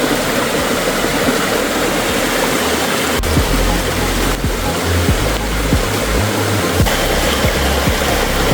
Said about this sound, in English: I'm here at a very unique waterfall in Blair Adam Forest where I usually stop for a wee rest